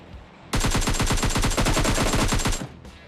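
A rapid burst of automatic gunfire in a battle royale video game rattles off about two seconds of evenly spaced shots, loud and close, then cuts off abruptly with a brief echo after.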